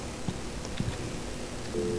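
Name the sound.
telephone dialing in Alan Wake video game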